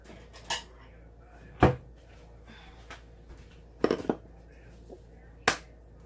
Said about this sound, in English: I am going to get a bowl and crack 2 eggs